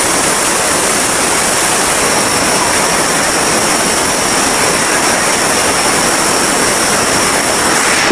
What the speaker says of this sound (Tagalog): Seven Falls. Here in Lake Cebu.